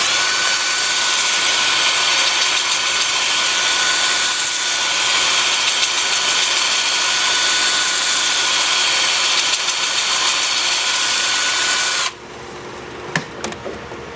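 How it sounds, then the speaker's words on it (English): A wood lathe spinning in reverse at 400 RPM whirs steadily and loudly with a sanding hiss against a bowl for about twelve seconds, then spins down abruptly, leaving quiet clicks and a few knocks. "Have the lathe spinning forward and reverse at 400 RPM"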